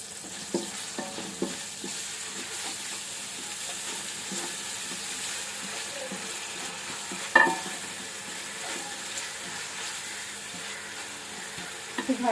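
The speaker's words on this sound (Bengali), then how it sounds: "কাঁচামরিচ একটু ভাজা" Green chilies, ginger and garlic fry in hot oil in a home kitchen, giving a steady close sizzle broken by scattered clinks and scrapes of a spatula and one sharper knock midway; no one speaks.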